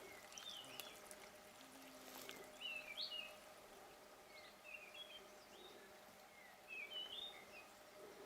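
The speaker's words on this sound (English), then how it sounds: "The birds are back." Several birds chirp and whistle in short, scattered phrases near a mountain stream in the Drakensberg forest near Champagne Castle, South Africa, with soft running water hissing steadily underneath.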